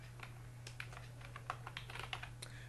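Quiet, irregular keystrokes on a computer keyboard while entering code for a PHP form, scattered soft clicks over a steady low electrical hum, no voices.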